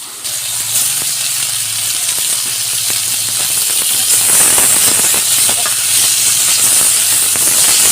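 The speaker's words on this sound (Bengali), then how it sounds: "এই যে তেল দিয়ে দিয়েছি পেঁয়াজ কুচি দিয়ে দিয়েছি টমেটোগুলোও দিয়ে দিয়েছি এটা ভালো মতন লেদে কষে নেবো" Chopped onion and tomato fry in oil in a pan, a loud, steady hiss and sizzle throughout with faint scraping under it, for a Bengali fish curry.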